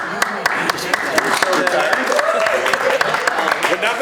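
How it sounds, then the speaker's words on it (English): Brief applause at a public meeting on a river cleanup, a short patter of hands clapping under ongoing talk in the room. "I'm not sure that clap was for"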